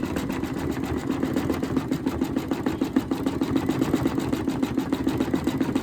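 An embroidery machine stitches a yellow flower design, a steady rapid mechanical whir with rhythmic needle ticks, close and continuous.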